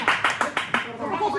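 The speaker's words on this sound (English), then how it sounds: "So can we all give AC a round of applause?" A handful of sharp, evenly spaced hand claps ring out in a room during an electrical wiring class, and then a voice begins talking.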